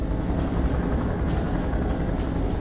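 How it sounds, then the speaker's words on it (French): A helicopter arrives at a boat in the video game Man of Medan, its steady rotor and engine roar loud and constant throughout with no talk over it. "y'a l'hélico du coup qui est venu sur le bateau"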